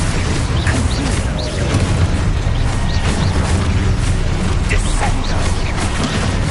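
Dense, continuous spell-combat barrage from a Hogwarts video game, a Confringo fire-blast spell among rapid casts, with repeated booming impacts, crackling bursts and mechanical clatter layered loudly and without pause.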